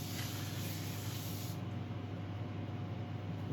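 Continuous close hiss of isopropyl alcohol sprayed onto freshly turned wood, a steady soft spray lasting a few seconds.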